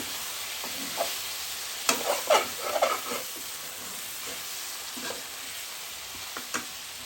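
Pieces of country chicken fry in oil with a steady, close sizzle, broken by a few louder scraping stirs and crackles near the middle.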